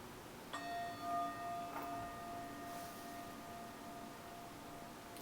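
A meditation bell from a timer app strikes once and rings out in a clear, sustained tone that slowly fades, soft and alone in a quiet room.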